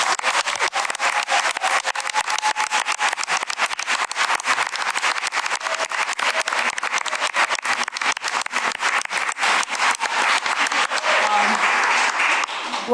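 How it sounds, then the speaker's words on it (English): Sustained, loud applause filling a school board meeting room, dense and continuous clapping from many people throughout with no letup. "the applause that you are hearing is for months of really intense, dedicated work"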